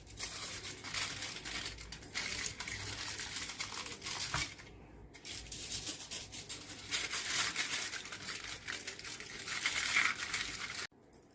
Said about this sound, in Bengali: এবার এই ফয়েল নিলাম, ফয়েল নিয়ে ভালো করে মুড়ে দেবো